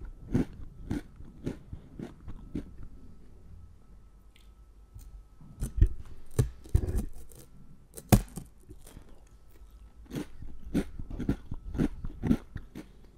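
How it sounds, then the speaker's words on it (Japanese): Senbei rice crackers are bitten and chewed close to a condenser microphone in a series of sharp crisp crunches, spaced bites followed by rapid chewing bursts, with no talking between them. "試しにせんべいでやってみたいです。"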